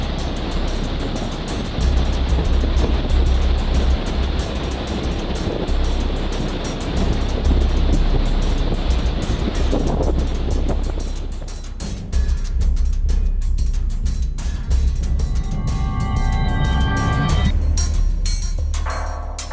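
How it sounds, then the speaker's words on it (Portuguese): Rough, furious sea pounds a tiny Brazilian ocean island rising only 18 metres from deep water, a loud continuous roar of surf and wind that eases slightly toward the end. "Hoje, o mar está em fúria."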